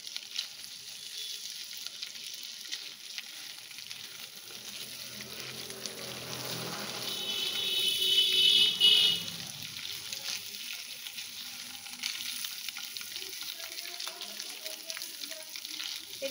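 Chicken kababs fry in a pan with a steady, close sizzle that swells briefly in the middle as they are turned over, then settles back to an even hiss.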